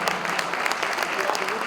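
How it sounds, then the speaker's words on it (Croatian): Concert crowd in Stara Pazova clapping in a brisk, even burst of applause, hands patting densely with a faint voice underneath. "Ajmo aplauz, molim vas."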